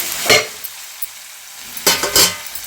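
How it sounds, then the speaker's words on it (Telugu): Cleaned chicken, half a kilo, goes into a pan of frying onions and tomatoes for a spicy chicken gravy curry, giving two loud bursts of sizzling and stirring separated by a quieter simmering pause, with no talk. "ఇప్పుడు ఇందులోకి శుభ్రం చేసుకున్న చికెన్ అనేది వేసుకుందాము."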